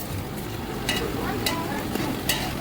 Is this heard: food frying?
yes